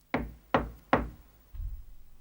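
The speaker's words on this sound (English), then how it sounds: "She always knocks on the door with her broomstick." A witch raps on a wooden door with her broomstick in a cartoon scene, giving three sharp, evenly spaced knocks, followed by a low muffled rumble.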